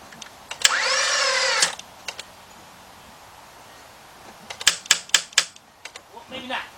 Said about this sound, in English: let's crank it over and see what we got.